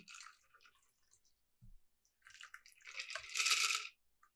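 A Sidecar cocktail is poured into a sugar-rimmed glass, giving soft splashing and trickling that swells into a brief, close pour near the end, with quiet moments before it.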